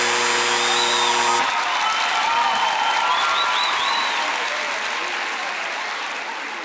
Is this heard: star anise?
no